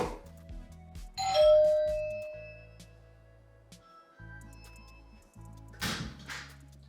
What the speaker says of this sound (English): Now, my chime rang in my home.